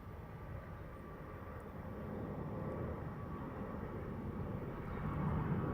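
Airbus A350 airliner departing Heathrow runway 09R, a steady distant broadband engine roar that slowly grows louder, with no talking.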